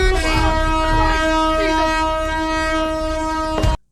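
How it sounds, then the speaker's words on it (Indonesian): The horn of a hijacked passenger train blares in one long, loud, sustained blast that cuts off abruptly just before the end. "si pria gila itu justru dengan sengaja membunyikan klakson kereta"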